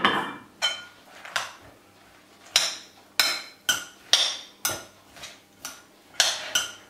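A spoon stirs flour and oil in a bowl, clinking and scraping against the side in a steady run of about a dozen strokes, close and distinct with no talking.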